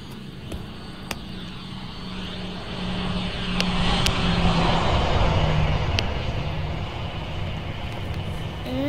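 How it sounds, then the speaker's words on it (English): Propeller airplane in the Roblox game Project Flight flies past, a steady engine drone swelling from about three seconds and lingering through the middle before easing slightly, with faint tonal whine and no talk. "Here's another plane."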